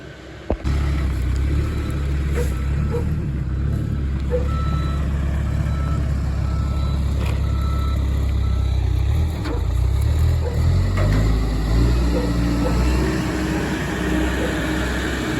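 A Th460b telehandler on air-filled tires drives along, its engine a steady loud rumble close by, with faint intermittent clanks and a brief beep-like tone over the drone.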